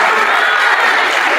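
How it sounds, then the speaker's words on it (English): Students at a sixth-grade awards assembly clap and cheer for classmates, a steady, dense wash of applause with scattered shouts filling the whole moment. "I just love you all cheering on your classmates"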